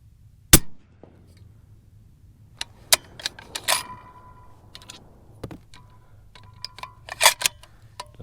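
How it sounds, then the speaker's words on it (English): A 7mm-08 rifle fires a single Barnes 171 handload with H380 powder, one sharp outdoor report followed by scattered clicks and light handling noises. "First round ever fired right there using it."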